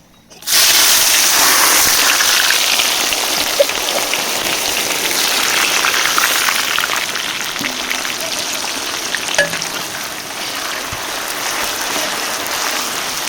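Chopped onion sizzles in hot oil for a katla fish curry, a loud, continuous crackling hiss that starts abruptly as the onion hits the pan and keeps going steadily.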